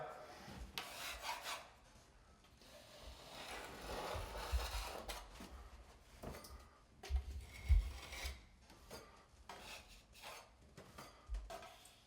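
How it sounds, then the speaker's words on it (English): A putty knife scrapes excess material off drywall near the ceiling while prepping a shower wall for tile, giving irregular rasping strokes at close range, some louder and some softer, with pauses in between. "take a putty knife, clean off the extra that's on the drywall"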